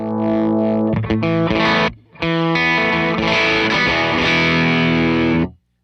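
Electric guitar played through a SoloDallas SVDS boost pedal with an aggressive driven tone, thick sustained distorted chords ringing loudly, a brief gap near the middle, then a long held chord cut off at the end.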